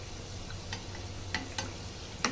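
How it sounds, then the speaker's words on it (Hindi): Lavang lata pastries fry in oil over a low flame, giving a soft, steady sizzle broken by a few faint crackles and pops, quiet and close. "ये फ्राई होने लगा है"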